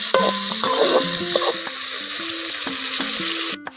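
Tomatoes sauté in a pan for a spicy tamarind kuzhambu, a close sizzle running under a series of clattering, ringing metal stirring knocks and scrapes, ending with a sharp clunk.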